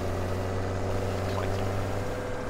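A freshly maintained tractor engine in a farming video game runs as a steady, low droning hum, constant and fairly loud throughout with no talking.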